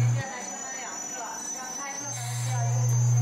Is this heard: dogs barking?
no